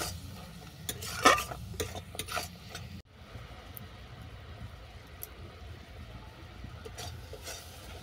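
Dry-roasted ground spice is stirred into apple chutney in a pan, with scraping and clattering strokes for the first few seconds, then a quieter low simmering bubble.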